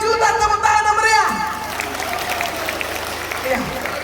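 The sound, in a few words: applause from audience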